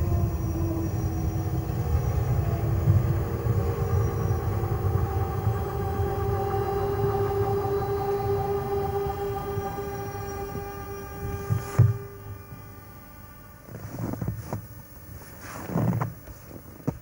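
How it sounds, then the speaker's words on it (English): A winter train from Pontresina rumbles and grinds into the Ospizio Bernina mountain station steadily with a droning tone and wind noise, then slows, followed by a few clunks and bumps. "a train from Pontresina arrives in Ospizio Bernina."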